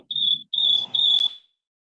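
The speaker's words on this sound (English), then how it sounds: "I heard crickets." Crickets chirp outdoors in a few short, shrill bursts, roughly three chirps in quick succession, clear and fairly close, then stopping into silence.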